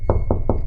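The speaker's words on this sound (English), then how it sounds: "there came a knocking at my bedroom door" Knocking on a bedroom door: four quick, heavy knocks in an even, rapid rhythm over a low steady background hum, loud and close.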